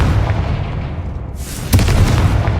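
A Confringo fire spell goes off in Hogwarts Legacy: a low rumbling roar swells into a sudden, sharp, bursting explosion near the end, loud and close.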